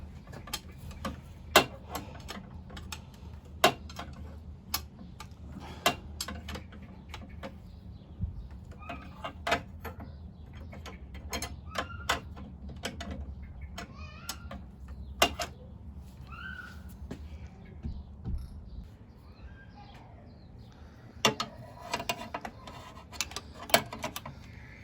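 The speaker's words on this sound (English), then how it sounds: "Removing drive belt tensioner upper 16 mm bolt." A ratchet works loose the upper 16 mm drive belt tensioner bolt on a Mini Cooper, giving sharp, scattered clicks and clacks over a low background hum, fairly quiet and close.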